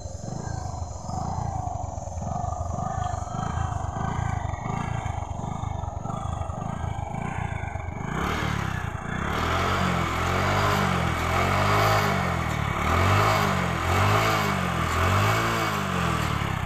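An old motorcycle engine idles with a rough, rhythmic thumping, then revs up into a louder, continuous roar that rises and falls, close by and without talk.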